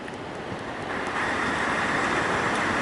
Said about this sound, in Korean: 왠지 파도 소리가 들려가지고